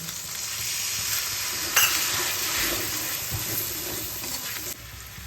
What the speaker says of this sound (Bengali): হাফ চামচ হলুদ হাফ চামচ কাশ্মীরি লঙ্কার গুঁড়ো এক চামচ ধনে গুঁড়ো হাফ চামচ জিরে গুঁড়ো আর সামান্য জল দিয়ে এটাকে আমি কষিয়ে নেব